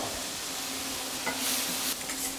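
Chopped onion sweating in a hot pan, a continuous soft hiss and sizzle with a brief stir and clink of utensil partway through, no voices.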